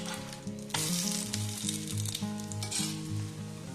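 Dough frying in refined oil, steady sizzle with a few stronger bursts as pieces are pressed down, close and fairly loud, with a sustained background tone running underneath.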